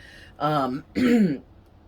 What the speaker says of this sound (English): I might have to clear my throat a lot